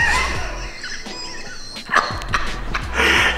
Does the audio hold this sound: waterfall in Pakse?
no